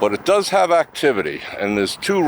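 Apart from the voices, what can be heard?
No distinct noise like a dog, phone or traffic.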